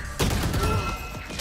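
Gunfire in the shooter game Valorant, a short volley of loud, close shots in quick succession over a dense game background.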